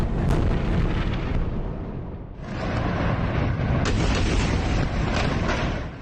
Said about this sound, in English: Overnight, Gaza has been rocked by explosions.